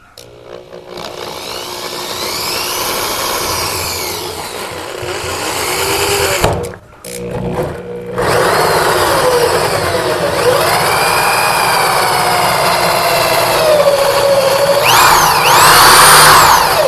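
A power drill fitted with a 1.5 inch hole saw cuts into a plastic rain barrel, a loud, close, steady whine and grind that stops briefly partway through, then starts again and runs to the end.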